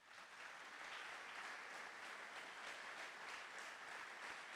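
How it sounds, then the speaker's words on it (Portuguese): A church congregation applauds at a missions service, a steady, even wash of many hands clapping, faint and distant throughout. "Aplauda o Senhor pelo seu irmão, por favor."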